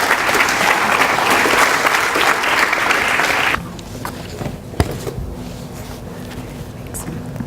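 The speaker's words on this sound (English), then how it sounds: "please give him a round of applause" A lecture audience applauds loudly for a few seconds as a speaker is welcomed to the stage, then the clapping cuts off abruptly, leaving quieter room noise.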